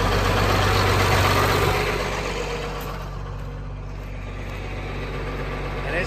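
A 1992 John Deere 4055 tractor idles on a cold morning while its 3-point hitch is lowered with the PTO off. The close, steady diesel rumble eases slightly after the first couple of seconds and then holds at a lower level.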